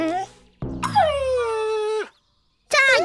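A dog in a cartoon children's song gives a drawn-out, high whimpering whine between short voiced cries.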